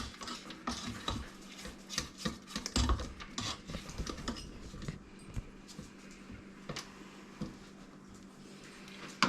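A spatula scrapes down a mixing bowl of banana nut bread batter in a series of quick scrapes and light taps, busier at first and thinning out toward the end.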